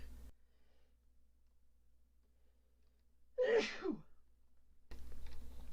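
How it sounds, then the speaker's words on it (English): A single sharp sneeze breaks a near-silent stretch, loud and close, followed by a brief exhale before low background noise returns. "Excuse me, I had to sneeze."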